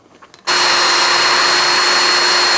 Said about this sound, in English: I'll drill those holes, mount the speaker